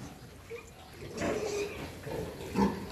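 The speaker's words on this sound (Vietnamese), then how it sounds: "Ở bên đây là mấy cái đàn heo của mình." Pigs in a farm herd of sows and piglets give several short, low grunts and oinks, fairly close, in a quiet barn with faint background noise.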